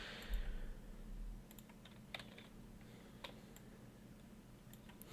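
Computer keyboard typing, quiet and sparse, with a few scattered key clicks over a low steady room hum.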